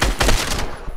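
Gunfire in a Fortnite-style video game's Blitz mode: a quick burst of a few sharp, loud shots, close up, within a single second.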